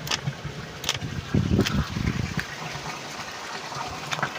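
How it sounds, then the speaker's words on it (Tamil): A farm pump sucks up water for mixing fertilizer, giving faint, uneven gushing and sloshing surges with a louder burst in the middle and occasional clicks. "தண்ணியை வந்து உறிஞ்சிக்கிட்டு போகிறதுக்கான செயல்முறை வந்து ஸ்டார்ட் ஆகிடுச்சு"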